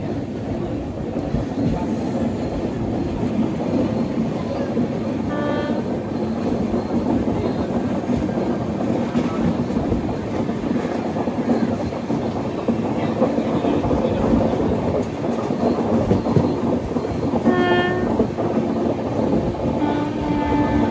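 Netravati Express sleeper train running near Shoranur, a continuous loud rumble of wheels and carriage noise throughout, with faint clicking of rails and no talk.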